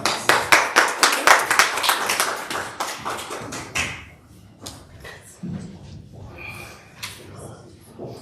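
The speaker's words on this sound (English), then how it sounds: "Give yourself a round of applause." A church congregation at a Sunday service claps in a quick rhythmic burst that thins into scattered individual claps, with a few voices murmuring near the end.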